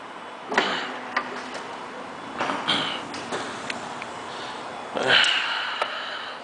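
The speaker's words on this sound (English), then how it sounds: "Right sliding door." Power right sliding door on a white 2010 Chrysler Town & Country Touring minivan working through its cycle: a series of clicks, mechanical knocks and a sharp latching clunk near the end, heard close up in a fairly quiet setting.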